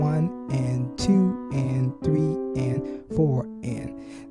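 Piano chords rolled upward note by note in a steady repeating pattern, while a voice counts the beats over the playing.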